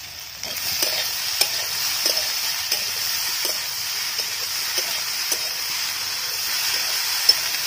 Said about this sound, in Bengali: মা ওদিকে ফুলকপি ভাজছে